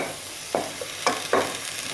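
Tomatoes stirred in a frying pan while cooking Moroccan-style meatballs: three short scraping clatters of a utensil against the pan over a faint steady sizzle, close by, with no talking.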